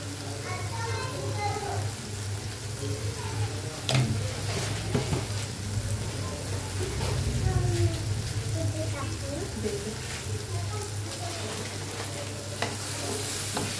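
Masala for matar paneer fries in oil in a pan, a steady close sizzle with occasional stirring scrapes and clinks throughout, a low hum underneath.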